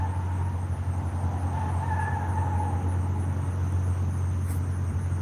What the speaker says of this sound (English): There's somebody over there in the parking lot driving like a fool.